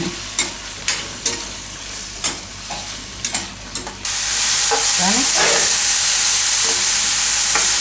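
A tomato mixture with salt cooks in a pan: a few scraping stirs clatter at first, then a loud, steady sizzle takes over and holds to the end, with no talking.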